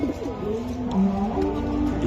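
A club racing pigeon, one of a pair offered for sale, gives a soft, throaty coo that rolls on through the whole moment in wavering low notes over a murky background.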